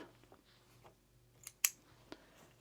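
Scissors snip through fabric and elastic at the edge of a serged classic tee, a few quiet, sharp cuts with soft handling noises in a hushed room.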